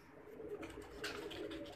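Soft, low pigeon cooing murmurs repeatedly through a steady background of broadband noise, fairly faint and with no talk over it.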